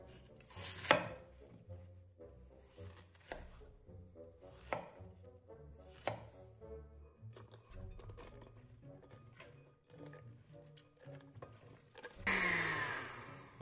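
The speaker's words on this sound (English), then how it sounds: "So I add crab sauce, so it's helping the mixer to grind the ingredients." A kitchen mixer grinds radish kimchi ingredients loosened with crab sauce. It gives a low, faint churning with repeated knocking thumps as chunks hit the blades, then a harsher, louder whirring burst near the end.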